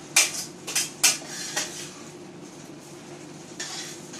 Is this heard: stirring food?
yes